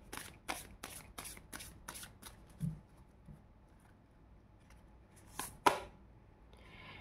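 A deck of tarot cards is riffled in a quick run of crisp, close shuffles, followed by a pause, a few soft single card flicks and one sharp snap as a card is pulled out, all faint and without talk.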